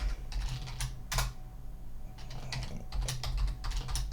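Password typed on a computer keyboard, a close, soft run of irregular key clicks in several quick bursts with short gaps, over a faint low room hum and with no voices.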